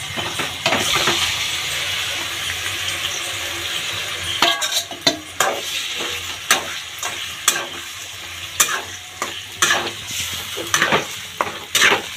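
Marinated chicken for biryani fries in a pan with a constant hiss while a spoon stirs and clinks against the metal in irregular knocks and scrapes, loud and near, with no speech.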